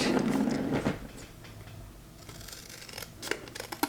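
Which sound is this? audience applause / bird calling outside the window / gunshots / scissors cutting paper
scissors cutting paper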